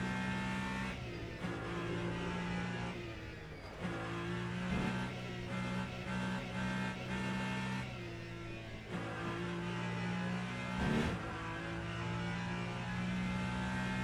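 A race car engine in the Le Mans Ultimate racing game, droning steadily through the Porsche curves with repeated brief dips as gears shift, then rising again, loud and continuous with no voices over it.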